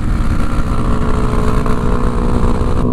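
A Hero Impulse 200 motorcycle rides off-road with a loud, continuous engine drone that holds steady and close throughout.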